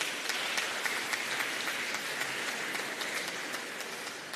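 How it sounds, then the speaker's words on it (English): Steady audience applause fills a swearing-in ceremony for the President of the Court of Appeal, a dense, even wash of many hands clapping at moderate distance, slowly tapering toward the end. "Please clap her."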